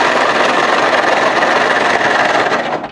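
An electric ice crusher shaving ice into a container runs loud and steady, a dense grinding whir that holds constant for a few seconds before cutting out.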